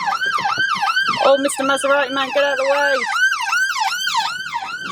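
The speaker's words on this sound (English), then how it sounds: "an ambulance now, so a police car just went up onto the motorway" Ambulance siren wailing loud and close in a rising-falling pattern as it passes on a road near a motorway in Wales, with a short steady horn-like tone midway and a person talking over it.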